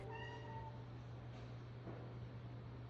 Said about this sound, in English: It was the neighborhood cat, Chubby Mama aka Chungus.